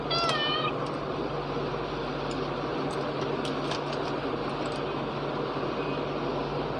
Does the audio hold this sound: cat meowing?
yes